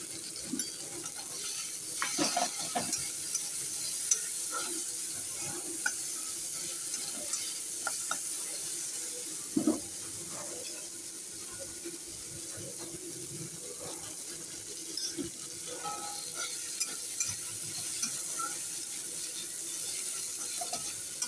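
Onions fry with turmeric in a pan, with a continuous sizzle broken by clinks and scrapes of stirring and a few sharper knocks, close and fairly loud, without talk.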